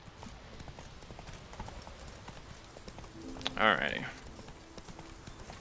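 Roach, the horse in The Witcher 3, clip-clops with steady hoof beats beneath a game soundtrack, and someone speaks briefly partway through.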